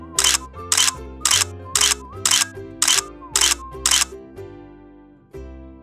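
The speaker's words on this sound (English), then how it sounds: "I was just doing a selfie shoot with my Kurio Watch." A Kurio kids smartwatch camera takes selfies, with a run of about eight evenly spaced shutter clicks over a bright musical backing, followed by a held tone.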